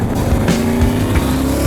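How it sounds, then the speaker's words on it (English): A 1974 Chevrolet Caprice donk, a powerful big-wheeled custom, roars with a steady loud engine drone and tire noise, close and continuous with no talk. "This is my 1974 Chevrolet Caprice. It is a driver car that makes a lot of power."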